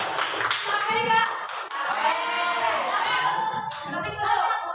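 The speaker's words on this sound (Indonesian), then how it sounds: "Tepuk tangan dong buat semuanya." Children in a classroom clap together in scattered bursts of hand claps, mixed with lively kids' chatter and voices throughout, close and moderately loud.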